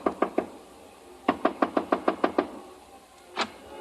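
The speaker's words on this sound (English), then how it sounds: "I stopped in front of room 300 and knocked." Knuckles rap on a hotel room door in a 1951 CBS radio drama: three quick knocks, a pause, then a steady run of about nine knocks and one last faint tap, close and crisp in a quiet room.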